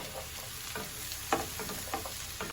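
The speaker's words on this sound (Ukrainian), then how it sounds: "Тепер це все перемішуємо." Stewed zucchini caviar is stirred in a pan over low heat, with a soft continuous sizzle and several scraping strokes of the spoon against the pan.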